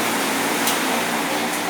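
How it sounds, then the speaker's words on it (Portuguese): An electric fan runs in a room, giving a steady, even broadband whir that continues unbroken and close by throughout. "Eu vou baixar só o ventilador um pouco por causa do som."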